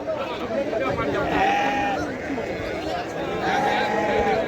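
Sheep and goats bleat at the Chelur weekly livestock market, with several wavering calls over constant crowd chatter and nearby talk.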